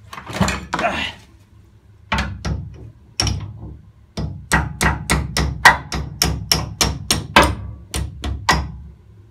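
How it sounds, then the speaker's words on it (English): Repeated sharp hammer blows on a 1964 Mk1 Mini during restoration, a few scattered strikes then a rapid run of evenly spaced hits, close and loud, with brief talk near the start. "Where's my hammer?"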